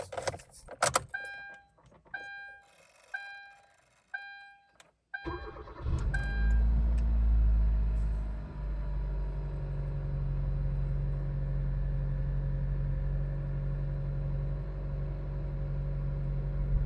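Keys jingle in a few short bursts, then a car engine starts and settles into a steady, smooth idle rumble that continues to the end.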